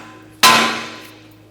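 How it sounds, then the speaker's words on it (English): A sledgehammer strikes a steering knuckle once to free the outer tie rod on a 2013-2022 Buick Encore, giving a sharp, loud metallic clang that rings and fades over about a second. "Now we're going to tap here with a sledgehammer and disconnect the tie rod from the knuckle"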